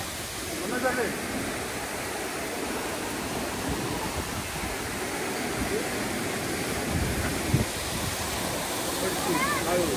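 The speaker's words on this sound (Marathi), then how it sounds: "तर असा हा सुंदर वॉटरफॉल आहे" Steady broadband roar of the Lingmala waterfall at Mahabaleshwar in monsoon season, a constant rushing wash of falling water that stays even throughout, with faint voices briefly under it.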